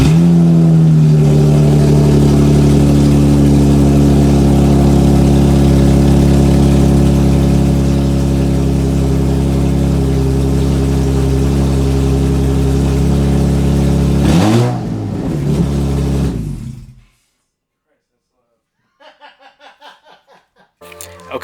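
A 2016 Dodge Challenger SXT V6 fitted with catless downpipes and an open header runs loud and raw, idling and revving close by for about fifteen seconds before it cuts off. A few quiet sounds follow after the engine stops.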